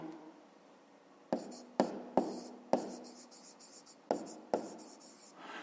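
Pen writing by hand on paper while noting down a school maths problem, with a series of sharp taps and scratchy strokes at an irregular pace, close and fairly quiet, with no talking.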